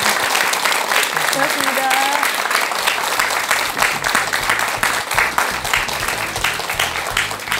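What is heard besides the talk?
audience applause for the monk's lecture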